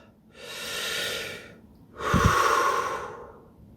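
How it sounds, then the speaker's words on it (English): A person takes two slow, deep breaths close to the microphone, each a soft, airy inhale or exhale separated by a short quiet pause. "Just take a few breaths."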